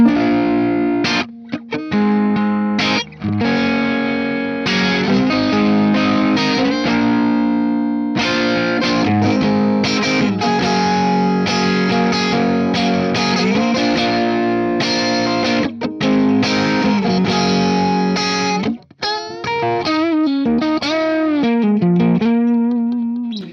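Overdriven electric guitar played through a CGT Free Man Satch ToneX profile on a low-gain channel, with a fuzzy tone, sustained chords and single-note lines, then a wobbling bend near the end, loud and alone.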